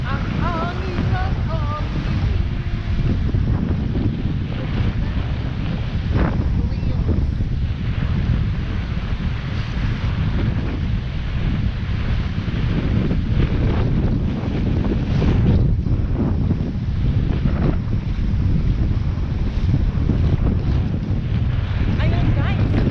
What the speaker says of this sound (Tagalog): hanggang dito na lang kasi ang lakas ng hangin